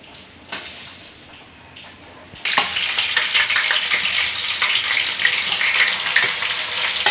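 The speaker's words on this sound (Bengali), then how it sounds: "এবার আমি পেঁয়াজ বেরেস্তা করে নেব" Sliced onions deep-frying in hot white oil in a kadai for chicken biryani: quiet at first, then a sudden loud, dense sizzle bursts in and crackles steadily up close, with occasional stirring clatter.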